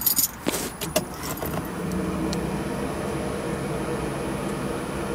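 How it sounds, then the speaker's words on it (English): A DeLorean is started during fan relay wiring work: a few sharp metallic rattles and clicks from keys and ignition come first, then a steady low idle hum settles in and continues evenly. "So we're gonna go ahead and start the car up."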